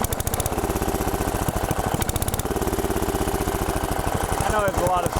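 A Briggs & Stratton 10hp single-cylinder engine on an Allis-Chalmers Big Ten garden tractor, idling low with a rapid, even thumping exhaust beat, loud and close, with someone talking over it.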